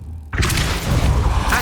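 A Depulso spell cast in Hogwarts Legacy lands as a sudden loud boom after a quiet moment, then spreads into a dense, roaring magical burst that fills the rest of the moment.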